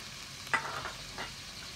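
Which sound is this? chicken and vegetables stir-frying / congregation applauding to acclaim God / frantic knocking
chicken and vegetables stir-frying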